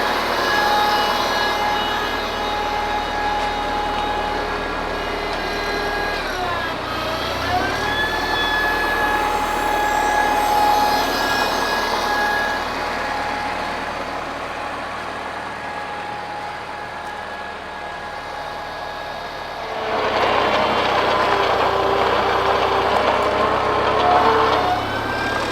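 A 1955 IHC McCormick Farmall Cub tractor engine runs steadily up close with an even mechanical hum; its pitch dips briefly early on, and it grows louder near the end.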